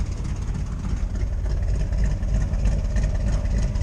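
A Chevrolet Corvette with an LT1 engine idles steadily while being parked, a deep continuous rumble that stays loud and close throughout, with no talking.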